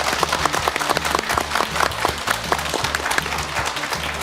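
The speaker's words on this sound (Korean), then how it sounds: "세 분께 큰 박수 보내드리겠습니다" Studio audience applause for three guests at the close of a Korean TV show, moderate clapping heard with a rhythmic musical beat running underneath.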